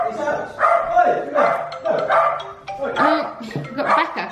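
A pet dog barking repeatedly indoors, a run of loud close yips and barks in a steady rhythm, mixed with whining tones.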